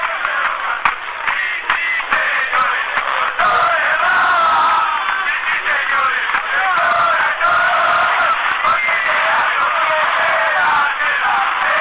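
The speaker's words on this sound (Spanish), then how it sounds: "en la cancha la gente de pie, los acompaña en el canto y con palmas" A stadium crowd on its feet at a regional football final in Uruguay, singing together and clapping along; a dense, steady roar of many voices fills the whole stretch, close and loud, with scattered claps and shouts.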